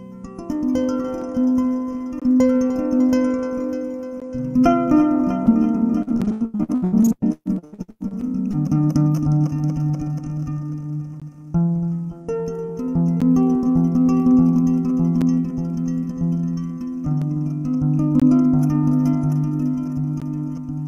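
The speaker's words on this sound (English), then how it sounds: "I bust this one out, and it's called a Kamale Ngoni" Kamale ngoni, a pentatonic gourd harp with goat skin, hardwood neck and deep-sea fishing-line strings, plucked in a flowing melodic pattern of resonant notes, close and clear, played alone for about twenty seconds.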